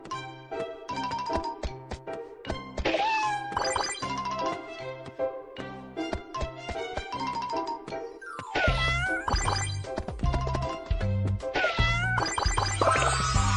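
Several cartoon cats meow in a children's game, a rapid series of bright, high meows and mewls layered over a light musical background, loud and close throughout.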